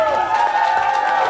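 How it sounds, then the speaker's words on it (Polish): Audience cheering and clapping at a Polish wedding's oczepiny games, a dense, steady wash of crowd noise held at full volume for over a second with no gaps. "Wielkie brawa!"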